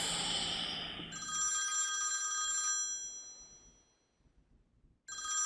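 A telephone rings with a bright electronic trill in two bursts, the first long and loud over fading background music, the second starting after a short pause near the end; no one speaks.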